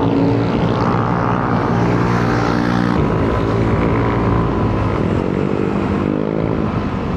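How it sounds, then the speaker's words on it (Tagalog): A loud, close Yamaha Aerox V3 scooter engine drones steadily, its pitch shifting as it labors and revs climbing uphill, filling the whole stretch without pause. "Nalakas ng motor sa ahon."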